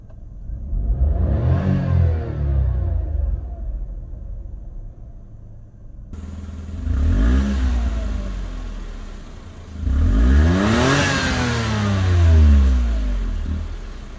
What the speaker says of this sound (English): you might be curious as to what the induction sounds like or the exhaust sounds like